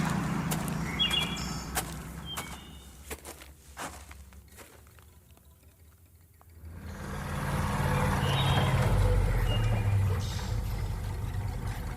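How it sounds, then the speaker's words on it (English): A military truck rolls in and approaches, starting as a distant engine with scattered clanks and footsteps, dropping to a brief lull, then a loud, low engine rumble swelling nearby and holding steady. "There's the truck."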